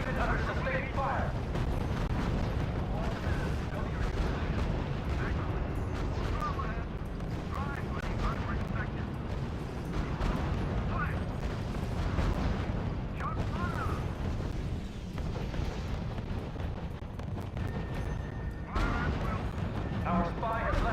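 Artillery and gunfire in a real-time strategy war game, a continuous roar of shots, heavy booms and rumbling explosions, loud and dense, with speech heard in places.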